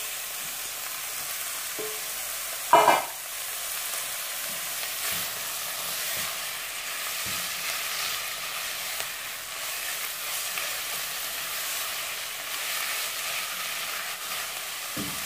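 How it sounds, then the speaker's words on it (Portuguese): Beef is seared all at once with onions in a hot pan over high heat, giving a continuous close sizzle with a sharp burst and occasional stirring clatters, and no talking. "Vou aumentar o fogo, vou deixar em fogo alto e coloco a carne toda de uma vez."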